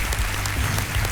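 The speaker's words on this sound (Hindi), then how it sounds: "तालियों के साथ हम चाहते हैं कि उनका एक बार फिर स्वागत किया जाए।" Studio audience on a televised quiz show stage claps steadily and densely, a sustained wash of applause with no voices over it.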